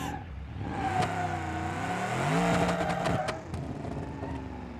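A car engine in the driving game BeamNG.drive revs hard and climbs in pitch, holding a loud strained note before easing off, with no talking over it.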